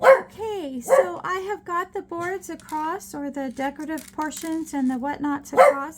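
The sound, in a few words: dog barking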